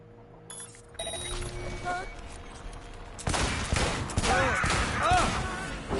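Cyberpunk video game gunfire: bursts of rapid shots in quick succession, loud and close, growing denser toward the end, with a voice talking over parts of it.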